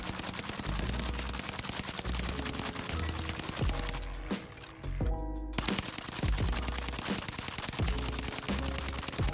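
STG rifle fired in Warzone, loud rapid automatic bursts in a steady rhythm with a brief pause and reload clatter midway, then continuous firing again, no talking.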